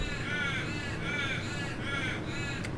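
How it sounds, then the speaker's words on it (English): Several crows caw in repeated harsh bursts, four or five calls in an uneven rhythm, fairly close and loud over steady background noise. "Piss off, birds."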